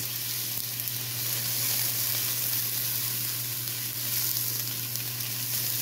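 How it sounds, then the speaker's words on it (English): Cleaned white rice fries with garlic in a hot pan, giving a loud, steady sizzle that swells slightly as it is stirred, with no talking. "Now I'm going to add my cleaned white rice."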